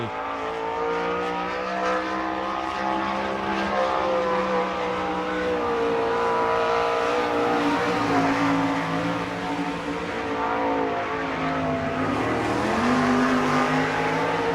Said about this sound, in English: The next car up for time trials races out of Sikeston, Missouri.